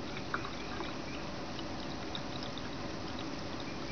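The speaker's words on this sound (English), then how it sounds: "So I'm adding a little bit more distilled water" Distilled water is poured into the inverter coolant reservoir of a Prius, making a soft steady trickle over a constant low background hum.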